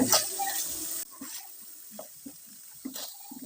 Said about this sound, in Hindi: बस इसे हमें हल्का सा भूनना है,